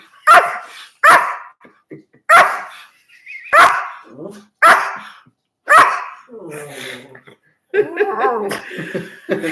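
A dog barks loudly and close by, about six sharp barks in a steady rhythm, followed by a burst of laughter.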